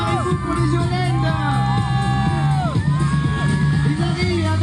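A crowd at a trail race cheers and whoops as joëlette runners arrive, a loud, continuous mass of voices with shouts and high cries, close and dense throughout.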